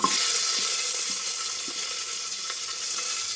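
Onions frying in hot mustard oil, a moderate sizzle that starts a bit stronger and settles into a steady, close hiss with a few faint clicks, no talking.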